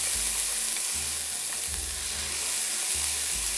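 Chopped leek sizzles and hisses steadily in a hot, well-heated pan on the stove for a winter vegetable soup, a close, continuous frying crackle with a low rumble underneath.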